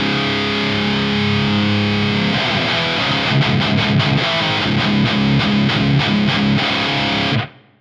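Electric guitar played through a Bondi Effects Sick As Overdrive pedal with the distortion maxed, a thick, loud, heavily saturated tone sustaining chords and then chugging rhythmically before cutting off at the end.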